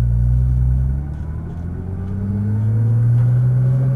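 Deep, loud engine rumble from a Nissan GTR on a track, dipping briefly and then rising in pitch as the car accelerates, droning steadily close by.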